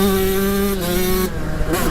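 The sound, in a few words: 135cc two-stroke dirt bike engine riding on track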